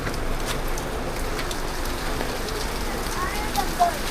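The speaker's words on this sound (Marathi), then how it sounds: "हा लयच पाऊस आहे यार." Heavy monsoon rain in Mumbai pours in a dense, steady hiss, close and continuous, with a brief louder splash near the end.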